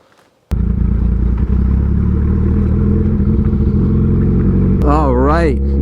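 A Suzuki Hayabusa motorcycle fires up with a sudden loud start, then settles into a steady, close, throbbing idle, with a quick rising rev at the end.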